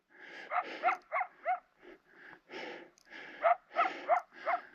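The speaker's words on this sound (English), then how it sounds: "There is a dog of some sort barking at me down there." A dog barks repeatedly from somewhere below on a mountain trail, a series of short, moderately faint yelps in an irregular rhythm with brief pauses between bursts.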